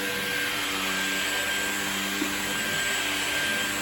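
A Levoit LVDC200 cordless vacuum cleaner running on its turbo setting, giving a loud, steady, high-pitched whirring drone that stays even throughout, close to the listener.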